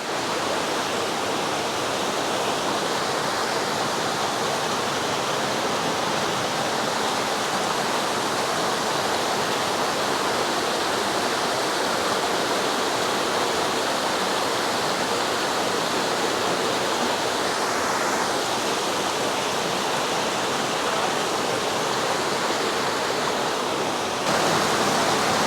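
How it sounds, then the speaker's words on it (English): Water gushes steadily out of a cave in a big cliff in Iowa, a loud, unbroken roaring rush that fills the whole stretch without voices. "There the water is coming out of that cave,"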